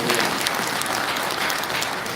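Steady applause from an audience at a public hearing on merging Gwangju and South Jeonnam administrations in Jangseong County, a dense even clatter of many hands that stays loud throughout without speech.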